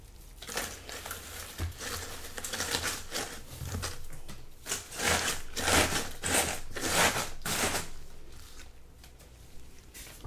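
Crinkle paper rustles and crunches continuously at close range as it is stuffed into a shipping box while packing small-business orders, with soft, irregular crackling throughout.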